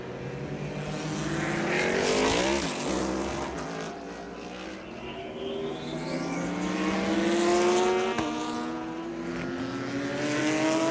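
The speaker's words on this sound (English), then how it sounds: "you can hear it, a thundering V8 out there in a Corvette, a V10 in the back of a Lamborghini" Race cars at Homestead-Miami Speedway during the FARA Miami 500 endurance race, including a V8 Corvette and a V10 Lamborghini, roar past one after another, their engine notes climbing and falling in pitch as they pass at moderate distance.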